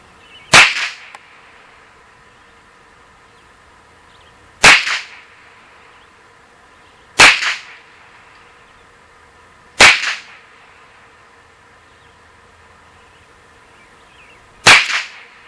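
Five sharp, loud cracks from a Ruger 10/22 rifle firing Federal Target Grade ammunition ring out one at a time with a few seconds between them, each trailing a brief echo.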